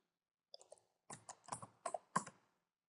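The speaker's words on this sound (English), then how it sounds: "So we're simply going to type it in." Quick bursts of keystrokes clatter on a computer keyboard in a quiet room, a few light taps followed by a denser run of clicks, close and clear with no voices.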